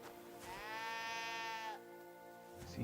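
A single long sheep bleat in Kingdom Come: Deliverance II, clear and close, with a wavering nasal tone lasting over a second before fading into quiet background.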